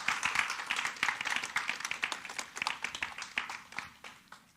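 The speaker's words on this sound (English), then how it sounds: "Let's give our dads a round of applause." A church congregation claps in a Father's Day tribute to the dads, a dense, steady round of hand claps filling the hall and tapering slightly toward the end.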